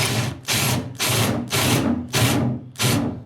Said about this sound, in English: taking your, you know, handy dandy spade bit and your handy dandy drill, just drilling down.